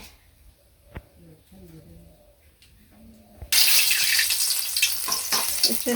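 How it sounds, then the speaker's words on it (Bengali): Bay leaves, dried chilies and five-spice seeds hit hot oil for a village-style festival cook-up for 60 to 70 people, erupting into a loud, crackling sizzle partway through after a quieter stretch with a voice speaking. "তেজপাতার শুকনো মরিচ দিয়ে দিছি। আমি 5 ফোড়ন সব দিয়ে দিই।"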